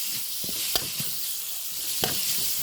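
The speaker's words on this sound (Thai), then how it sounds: "ผัดให้หอมเลยนะครับ" Chicken stir-fried with bottled pickled bamboo shoots in a hot pan, giving a continuous close sizzle broken by sharp spatula scrapes and knocks.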